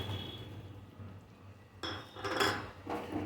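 Mustard paste being stirred into softened tomatoes in a pan with a spoon, a few close scraping and clinking strokes of utensil against metal after a quieter stretch, no talking.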